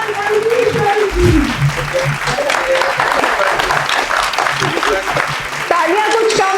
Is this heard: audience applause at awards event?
yes